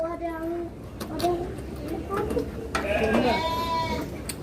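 Goats and sheep, including a tiny kid goat, bleat several times close by at a petting farm, their wavering calls mixed with a child's and adults' chatter.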